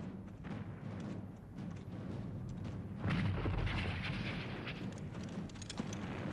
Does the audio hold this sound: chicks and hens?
no